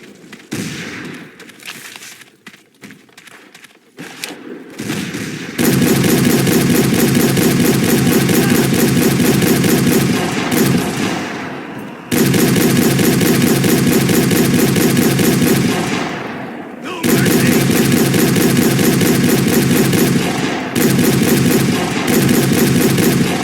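A large Gatling gun in the Civil War game A Nation Divided fires long, loud, sustained bursts of rapid shots, broken by a few short pauses.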